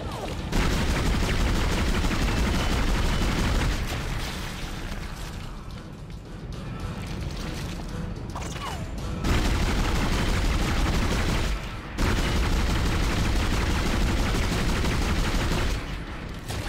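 Loud, sustained gunfire from the Dead Space video game, with dense bursts of shots that drop away briefly twice before resuming at full force.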